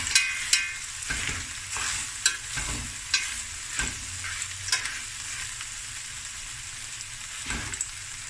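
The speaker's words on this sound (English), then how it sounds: "The rice is frying nicely." Rice with clams and crab sizzles and crackles steadily in a hot pan, with sharp scraping clinks of a utensil stirring it at irregular intervals.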